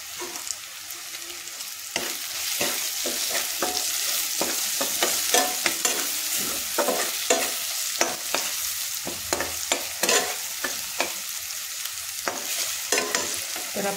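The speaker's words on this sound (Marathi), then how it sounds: "तर आपला छान असा मसाला इथे भाजलेला आहे" Spice masala with a pinch of hing, garam masala and turmeric roasts in a pan, a continuous close sizzle broken by frequent sharp scraping strokes of a spoon being stirred, with no talking.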